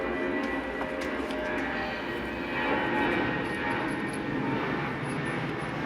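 A jet aircraft taking off roars steadily in the distance, a broad continuous rumble and hiss that swells slightly mid-way and holds throughout.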